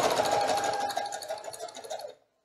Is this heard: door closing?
no